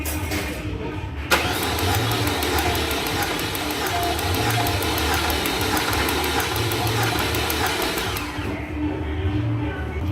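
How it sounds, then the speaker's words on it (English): A 2006 Saab 9-3 engine cranks over on the starter during a compression test, a loud, steady rhythmic whirring churn with even pulsing that starts sharply and runs about seven seconds before stopping. "I want to see it spin when I crank the motor"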